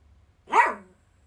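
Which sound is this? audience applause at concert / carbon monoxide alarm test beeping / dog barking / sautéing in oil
dog barking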